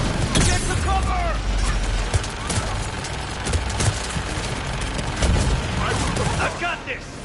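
A Mass Effect gunship fires its guns in rapid bursts, a dense, loud stream of gunfire and impacts with heavy booms mixed in, while voices shout during the battle.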